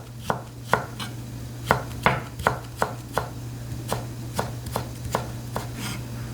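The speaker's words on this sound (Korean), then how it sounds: "이렇게 해서 채를 고르게 썰어 주셔도 되고" A knife julienning vegetables on a cutting board, about fifteen crisp, evenly spaced chops heard close up, with no talk.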